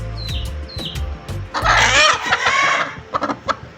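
A hen on a small backyard farm clucks and squawks loudly and close by in a flurry of agitated calls, with birds chirping in the background beforehand.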